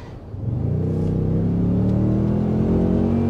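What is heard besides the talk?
2023 Toyota Sequoia Capstone hybrid accelerating at full throttle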